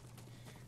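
Horse galloping in the Ghost of Tsushima video game, quick clip-clop hoofbeats in a rapid rhythm, fairly faint over a low background hum.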